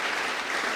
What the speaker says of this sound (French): Est-ce que vous pouvez acclamer le Seigneur?